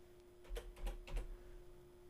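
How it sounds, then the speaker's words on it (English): A handful of quiet keystrokes on a computer keyboard, about four or five soft clicks in quick succession over a low steady hum, with no talking. "just start typing."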